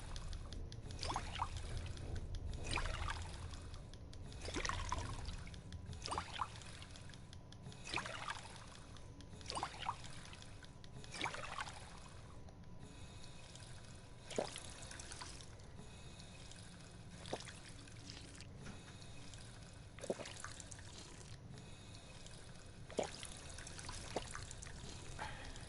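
Purified water pouring and trickling in the video game Fallout 4, a steady faint stream with light splashes and drips repeating over the whole stretch, alone without talk.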